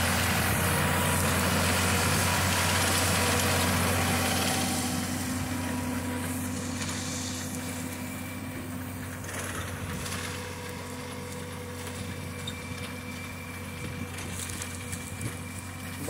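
Tractor-driven ratoon manager working a trench-method sugarcane ratoon field, a steady low diesel engine drone with mechanical rattle, loud at first and easing slightly as it continues, with no talk.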